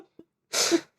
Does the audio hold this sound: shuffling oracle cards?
no